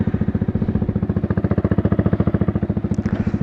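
A Yamaha R15 V3 motorcycle fitted with a Toce exhaust idles at night, its close, loud exhaust pulsing in a fast, steady rhythm throughout, with a light mechanical clatter over the beat.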